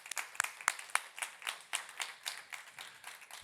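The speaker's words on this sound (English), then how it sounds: "A round of applause." A small audience applauds as a fashion industry expert is welcomed to the stage at a talk on the future of fashion, with a handful of distinct, fairly close claps in an irregular patter.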